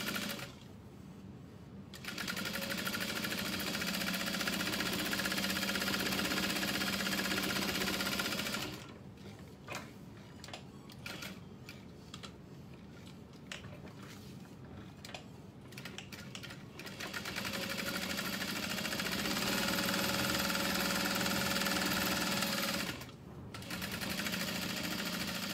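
A sewing machine stitches along the sides of a bag strap in bursts of rapid, even mechanical chatter, close and loud, with pauses and small clicks of handling between runs.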